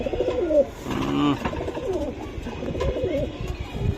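Racing pigeons coo close by in soft, throaty bursts, with several calls overlapping in a short stretch.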